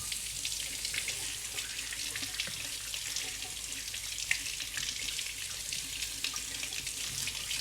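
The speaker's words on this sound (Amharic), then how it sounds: "በቀዝቃዛ ውሃ እናጥበዋለን።" Chili peppers are rinsed in cold water under a running tap, a steady close splashing and trickling that continues throughout with no talk.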